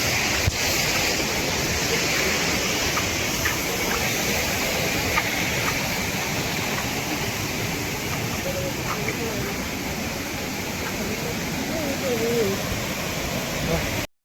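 A small waterfall at Tahuli near Ambernath: a loud, steady broadband rush of falling water heard close throughout, with faint voices in the mix.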